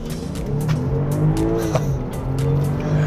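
A 380-horsepower BMW X5 SUV picks up speed again after easing off. Its engine drones steadily and loudly as the pitch rises slightly, with road and tire noise underneath and no speech.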